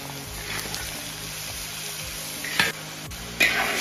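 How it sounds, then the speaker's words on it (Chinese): Rice wine drizzled down the side of a hot wok, then a mixed sauce poured in over aromatics while cooking snapping turtle, a steady sizzle rising into two sharp, loud hissing bursts as the liquids hit the metal. "从锅边淋入米酒， 倒入调好的料汁"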